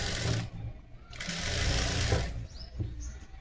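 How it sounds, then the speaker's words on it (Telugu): Sewing machine stitching a blouse in a tailoring setting: a steady, close mechanical whir and rapid needle chatter that runs for a couple of seconds, stops briefly, then starts again more softly. "ఇలా ఈజీ ప్రాసెస్లో మందం ఉన్న దగ్గర తీసేసుకుంటూ చక్కగా దీన్ని కుట్టు వేసేసుకోండి."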